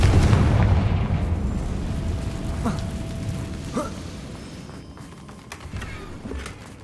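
A Confringo spell explosion in Hogwarts Legacy, a loud booming blast with a long rumbling tail that slowly fades, followed by scattered debris crackles and small pops.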